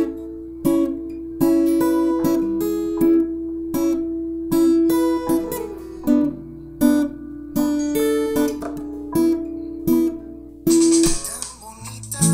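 Acoustic guitar plays the intro of a song as a picked melody over chords, with clear rhythmic phrases and notes ringing out, close and alone with no talking.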